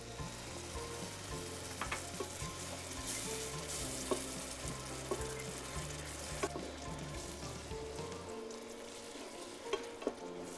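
Masala with curd and cream frying in a pan for a millet biryani, a steady close sizzle with occasional stirring clicks and scrapes throughout, no talking.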